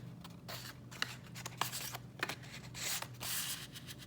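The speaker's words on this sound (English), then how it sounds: "Take your bookmark that you cut and slide it inside." A cut paper bookmark slides inside a die with soft papery rubbing and scraping in a few short strokes, quiet and close.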